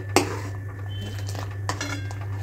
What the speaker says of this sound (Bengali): দুধটাকে ভালো করে নাড়তে থাকবো